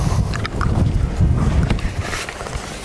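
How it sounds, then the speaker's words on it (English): Steady wind buffets the microphone outdoors, with gusty low rumble and scattered faint clicks and rustles throughout. "It's windy out, huh?"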